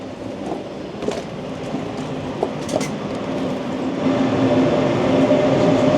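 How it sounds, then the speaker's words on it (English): A train arriving at a station in Bologna, Italy, rumbles steadily close by, its low hum growing slightly louder, with a few sharp metallic clicks and squeaks from the wheels. "So that's my train that I've arrived on."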